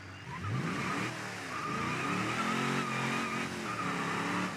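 A V8 car engine drones and rises through revs as the vehicle drives, a steady, fairly distant roar with shifting pitch.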